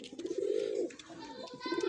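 A breeder pigeon gives a low, throaty coo, one drawn-out call followed by a shorter one, close by and fairly soft against faint background noise.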